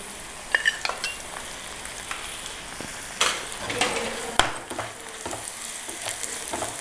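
Ghee stirred into melted sugar syrup in a hot pan gives a steady sizzle, broken by scraping stirs and a few sharp utensil knocks on the pan. It is close and continuous, with no talk.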